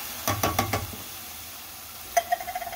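Rotel, black beans and butternut squash are stirred together in a pan, giving a few soft knocks and scrapes at the start and a short run of light clatters near the end, with quiet gaps between.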